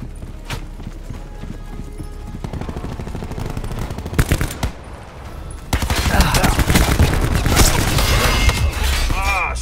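Gunfire in the video game Black Ops 4, with rapid automatic bursts and single sharp shots. The firing gets louder and denser toward the end, and a player talks over parts of it.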